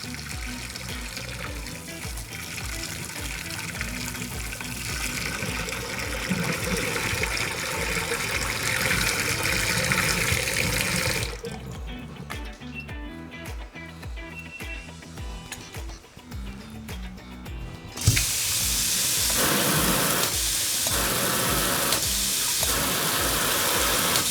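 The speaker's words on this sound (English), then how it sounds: "turn on the water to blow everything out, hot and cold side both" A kitchen faucet runs with its aerator removed, the hot and cold sides both open, flushing debris out of the spout in a steady stream; the flow shifts in tone partway through, then returns stronger and louder.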